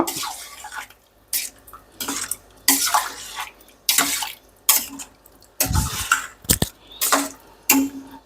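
Cooking water is poured into a side dish mixture in a kitchen, giving repeated splashing, trickling pours in short bursts, close and fairly loud, with no talking.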